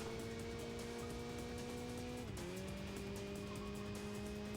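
A mid-engine car in the racing game Enthusia drives with a steady engine drone that dips in pitch partway through as it shifts or slows, set against continuous road and tire noise, without speech.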